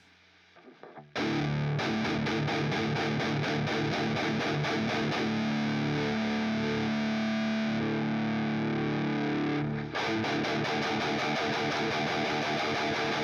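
An electric guitar runs through a ToneLib amp simulator with the shredder pedal switched off, a few quiet plucks giving way to a loud, thick, heavily distorted riff that rings steadily for several seconds and then cuts off abruptly.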